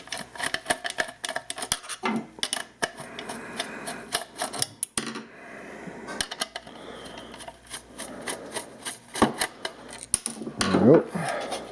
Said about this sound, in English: So let's grab a screwdriver. We'll pull those.